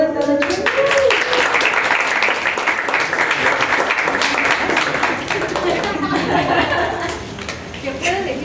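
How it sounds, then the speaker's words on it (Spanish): Studio audience applauding the night's winner on a Spanish comedy show, a dense sustained clapping wash with voices and chatter mixed through it, steady and loud before tapering slightly near the end. "te pido un aplauso al ganador de esta noche"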